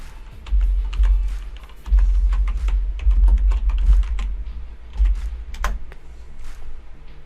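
Rapid typing on a computer keyboard while a search term is entered on a Windows 10 PC, close and clear, with irregular bursts of key clicks and brief pauses between them.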